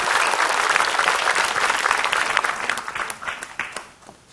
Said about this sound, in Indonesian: Tepuk tangan buat Ustadz Abdul Kafi.